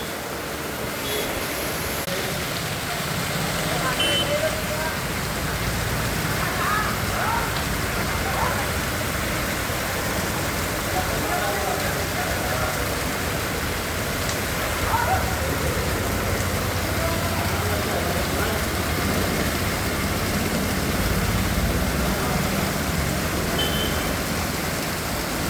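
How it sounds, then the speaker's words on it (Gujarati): Heavy monsoon rain pours down in a steady, dense hiss that stays even and unbroken throughout, with a faint low rumble beneath. "કપડોની અંદર ધોધમાર ગડબડાટી બોલાવી છે, તો આપણે વરુણને આવકારીએ છીએ."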